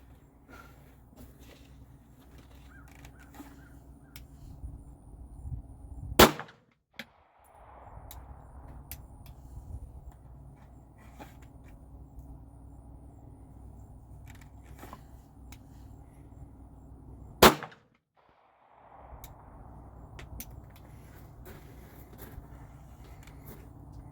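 Two single handgun shots during a draw-and-reholster drill, each a sharp isolated crack about eleven seconds apart, with quiet handling and ambient noise between them.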